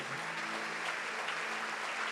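A church congregation applauding, a steady wash of clapping that is dense and even, heard from some distance at moderate loudness, with no voices standing out.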